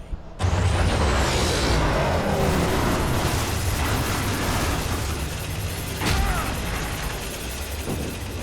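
Flashbang grenades detonate in the horror game Alan Wake Remastered: a sudden loud burst opens into a sustained, rumbling wash, with another sharp blast near the six-second mark, all close and dense with no clear speech.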